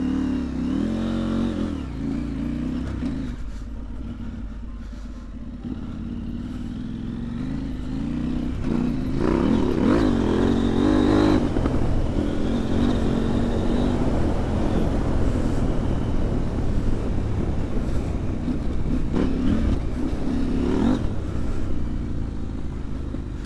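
A heavy motorcycle riding on ice, its engine droning steadily and rising into revs midway, with a continuous loud roar and shifting pitch throughout.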